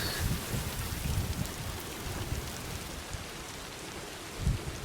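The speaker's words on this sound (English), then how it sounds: "It's raining already." Steady rainfall in the Death Stranding 2 game, an even hiss of drops with low rumbling thuds underneath, moderately loud and unbroken, no talking.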